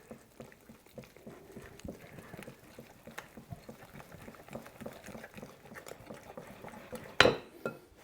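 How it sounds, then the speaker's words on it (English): Oatmeal banana bread batter is stirred by hand, giving a soft, rhythmic patter of a utensil scraping and tapping through thick mixture in a bowl, fairly quiet, ending with a sharper clink against the bowl. "Do a little bit more mixing."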